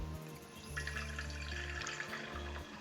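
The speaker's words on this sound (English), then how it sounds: "I'm going to take a pot and fill it with water." Tap water runs into a pot being filled for making avocado ink, a steady faint splashing under a low, stop-start humming tone from the plumbing.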